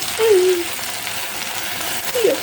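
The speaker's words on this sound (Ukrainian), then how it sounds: "Як воно шкварчить" Steady hiss of food frying in a pan, with a brief voice at the start and again near the end.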